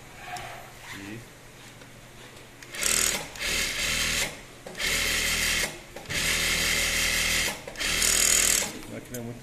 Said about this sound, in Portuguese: Você corta na máquina de viés